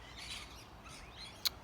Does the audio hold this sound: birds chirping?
yes